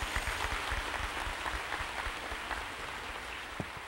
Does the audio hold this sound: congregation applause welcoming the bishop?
yes